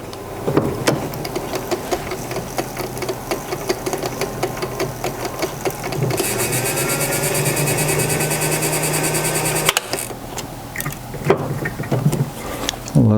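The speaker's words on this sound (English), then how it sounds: "So now I'm going to tap in the other side, running the machine really slowly and letting the tailstock just ride its way in a little bit." A lathe turns slowly while a tap cuts a thread into a strut for bike panniers, a steady mechanical whir and hum that swells and holds from about six to ten seconds amid intermittent workshop clicks and knocks.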